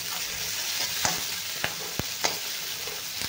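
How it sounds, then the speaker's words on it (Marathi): Onion and green chilli sautéing in a pan with a steady soft sizzle, punctuated by a few sharp clicks of a spatula against the pan. "कांदा छान असा आपल्याला गुलाबी होईपर्यंत परतून घ्यायचा आहे"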